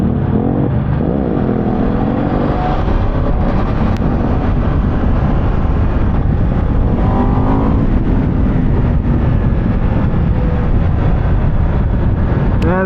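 Aprilia RS 660 motorcycle engine under way, a loud continuous drone with rising and falling revs and steady wind rush, close and constant throughout.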